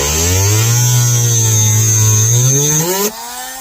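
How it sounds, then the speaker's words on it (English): A Dremel rotary tool whines loud and close at a steady high pitch, holding its speed for about three seconds before winding up slightly and cutting off abruptly, with no talking. "the trick to this Dremel tool is you want to start out slow."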